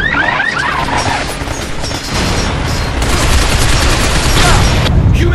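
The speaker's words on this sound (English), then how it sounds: "Cover us! Maintain heavy fire!" Heavy gunfire in the video game Binary Domain: a loud, dense, continuous barrage of rapid shots and crashing impacts filling the whole stretch without pause.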